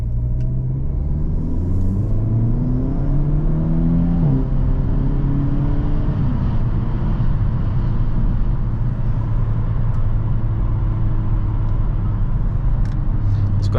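A 2023 Hyundai Elantra N engine pulls steadily while driving, its droning note rising and falling through gear changes over a constant road rumble, close and loud without talk.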